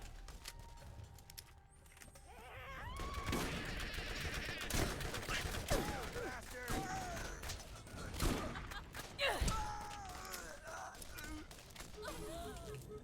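Rapid bursts of gunfire from the video game Borderlands, a fusillade of shots and impacts at moderate level with gasps and game sounds mixed in.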